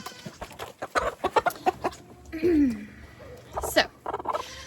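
Backyard chickens near their coop cluck in short, uneven bursts, with one drawn-out squawk midway, close by and moderately loud.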